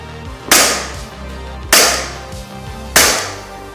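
Three sharp gunshots fired while stepping during a shooting-on-the-move drill, evenly spaced about a second apart, loud and close, each with a brief ringing decay.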